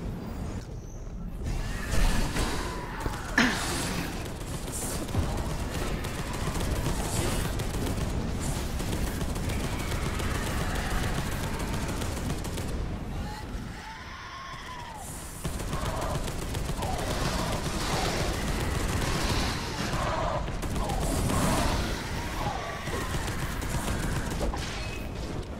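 Turret in the Space Hulk Deathwing game firing in sustained rattling bursts, dense and continuous over a low rumble, fairly loud, with a brief lull midway and no talk.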